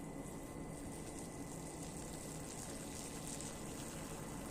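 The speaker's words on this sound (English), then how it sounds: "There's a stream somewhere nearby. Can you hear the water flowing?" A nearby stream flowing along a riverbank fishing spot, a steady, even rush of running water filling the whole stretch without breaks.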